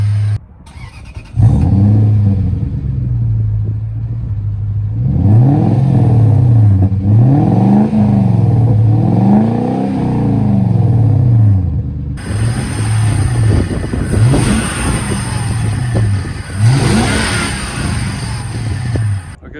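A car engine fitted with its stock air filter revs repeatedly from idle in rising and falling swells, loud and close, with a rougher, harsher stretch of revving near the end.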